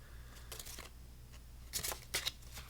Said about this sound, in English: And then you can really shuffle these as much as you would like.